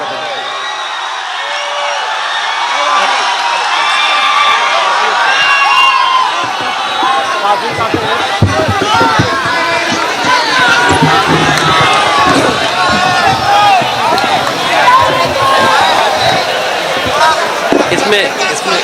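An audience at an all-India mushaira in Azamgarh welcomes poet Nikhat Muradabadi with loud crowd noise and clapping, rising after a brief quieter start and staying dense and close throughout, with voices mixed in.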